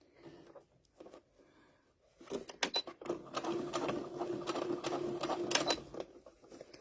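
A sewing machine topstitches around a cast iron pot holder handle, a few hesitant short bursts at first, then a close, steady rapid run of stitching with a brief pause, and no one talking.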